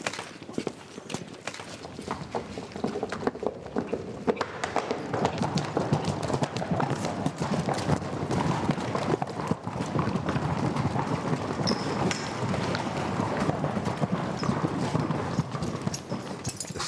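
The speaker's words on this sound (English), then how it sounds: "our scale doubles, who will bravely stand their ground as horses thunder towards them" Horses gallop on a film set, a continuous rumble of many hooves pounding the ground, loud and close, with faint voices briefly in the background.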